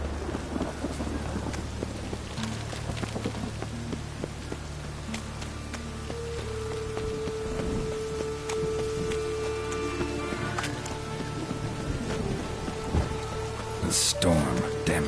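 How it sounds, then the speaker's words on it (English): Steady rain with rolling thunder in the Witcher 3 game world, a continuous wash of rainfall and low rumbles, with a sharp crack of thunder near the end. "The storm, damn it."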